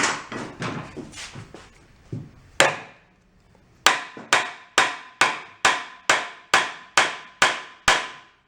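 A hammer on a pry bar against a junked marine diesel generator set gives scattered scraping knocks at first, then a pause, then a run of about nine evenly spaced, sharp, ringing metal taps close by.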